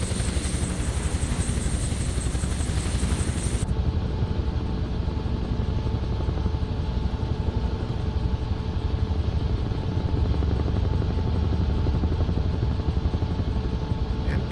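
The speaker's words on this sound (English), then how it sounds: "Big rotor chop there as we're pushing the collective hard to get a bunch of airspeed under our rudders" Steady, close rotor chop of a UH-1 helicopter in Flight Simulator 2024, pushed hard on the collective for airspeed, a continuous throbbing beat with engine whine running unbroken throughout.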